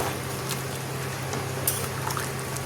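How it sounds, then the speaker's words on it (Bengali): Water poured into a pot of simmering chicken jhol with potatoes, a faint, steady trickle and splash over low kitchen hum, with no talking. "আর একটু জল দিয়ে দেবো।"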